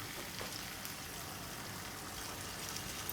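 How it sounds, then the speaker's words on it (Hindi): Water pours steadily for about three seconds into a pan of simmering beef curry (achar gosht), making a soft, continuous splashing hiss at low volume. "अब मैं इसके अंदर आधा गिलास पानी शामिल करने लगी हूँ।"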